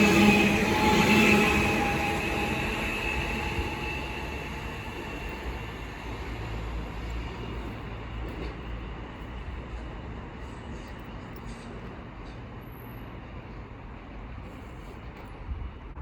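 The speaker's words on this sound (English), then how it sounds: "the 1312 London Northwestern Railway service from Liverpool Lime Street to Birmingham New Street with 350-235 in the British Transport Police livery leading" London Northwestern Railway Class 350 electric multiple unit, 350-235 in British Transport Police livery leading, passing through Stafford on the West Coast Main Line, a steady loud rushing roar of wheels and motors that slowly eases off, no voices.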